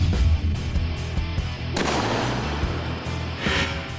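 Gunfire at a São Paulo military police academy shooting class where cadets train, sharp shots repeating irregularly over a busy, dense background, fairly loud and close.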